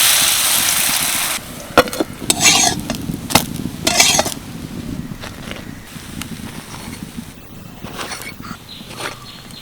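Veg parathas fry in a pan with a soft sizzle at first, then metal spatula scrapes and clanks against the pan in scattered bursts, close and fairly loud, no voices.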